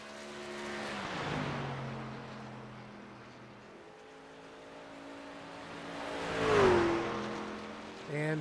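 Simulated race truck engine on a qualifying lap in an iRacing truck series event, a tonal engine drone that rises and falls through gear changes and swells as it passes close, moderately loud and without speech.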